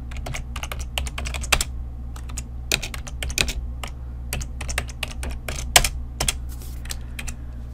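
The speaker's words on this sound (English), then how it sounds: "So let's type MyFolder" Rapid, irregular keystrokes on a computer keyboard while entering Excel VBA code, clicking in uneven bursts with brief pauses over a low steady hum; close and moderately loud, no talking.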